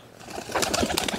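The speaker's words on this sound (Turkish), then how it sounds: "Burada da güvercinler var." Pigeons of mixed kinds coo softly nearby in the open air of a city, a short low murmur that swells briefly as if the birds stir.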